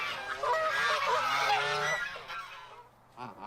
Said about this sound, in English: I like how aggressive the middle goose is.